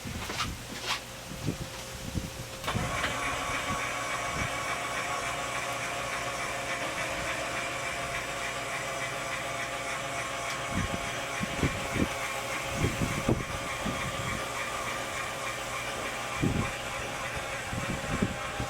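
An electric hatch motor on a Wellcraft 3300 Martinique boat lifts the engine room hatch at the flip of a dash switch, giving a steady mechanical whir and hum over several seconds, punctuated by clunks and knocks as the hatch moves.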